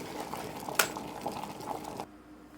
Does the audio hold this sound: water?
yes